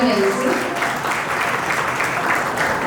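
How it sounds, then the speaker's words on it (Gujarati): An audience at a school gathering at St. Xavier's School, Gamdi-Anand, breaks into loud, sustained applause, a dense steady clapping that fills the hall. "જોરદાર તાળીઓથી તેમને વધાવી લઈશું."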